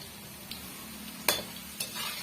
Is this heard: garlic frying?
yes